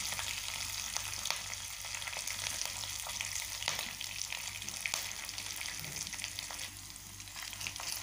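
Cumin, mustard seeds, curry leaves and chilies sizzle in hot oil, a dense and steady crackling hiss with small popping bursts, close and continuous throughout.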